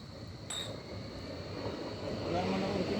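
A tram passes by in Marzahn, a rolling rumble with a faint high whine that slowly builds louder over about three seconds.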